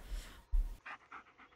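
Quick rhythmic panting from a dog in the Blair Witch game, a few short breathy puffs close by, following a pair of heavier low thumps, with no talking.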